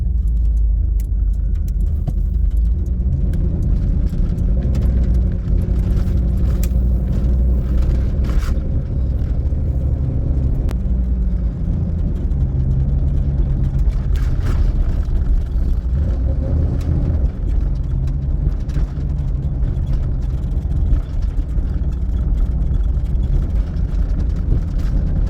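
A 1990 squarebody Chevrolet Suburban truck, low on power, drones steadily while driving through town, a continuous low engine and road rumble with no talk.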